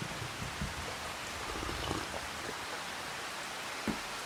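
Steady rain shower falling in a Farming Simulator 25 morning scene in Scotland, a continuous soft hiss of rainfall with a few low thumps, fairly faint and uniform, no talking.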